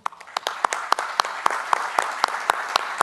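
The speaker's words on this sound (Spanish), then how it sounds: "pido un aplauso pues por este avance." Council members applaud at the close of a municipal council session in Miraflores, a sparse round of distinct hand claps at a fairly steady rhythm, close by, with no talking.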